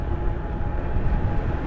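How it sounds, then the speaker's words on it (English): Helicopter flying overhead above a Panhandle trail, a steady broad rotor rumble at moderate distance, with no other sounds. "Panhandle helicopter."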